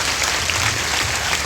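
Crowd clapping at a Bhagwat Katha gathering greeting the guru, a brief dense burst of applause that stays steady and fairly loud throughout.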